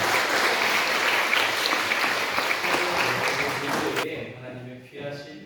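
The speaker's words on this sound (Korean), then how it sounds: "찬양 올려드린 우리 찬양대에 위해서 다시 한 번 더 힘차게 박수하겠습니다" Dense applause from a church congregation for the choir after a hymn, loud and steady for about four seconds before fading into softer scattered clapping.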